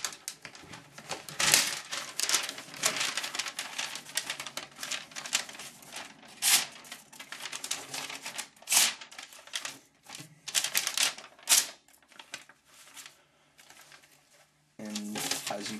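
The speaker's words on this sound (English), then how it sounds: "let's give it a little paper cutting test" Stainless CRKT Razel SS7 knife blade slicing through a sheet of paper, a run of crisp scratchy cuts and rustles up close, repeated in short bursts with brief pauses between.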